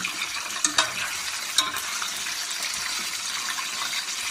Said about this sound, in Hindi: अब इसमें आराम से हम अपना गोश्त छोड़ देंगे।